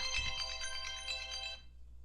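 A phone ringtone plays, a bright tonal electronic melody with steady ringing notes for about a second and a half before cutting off, fairly faint and without talk over it.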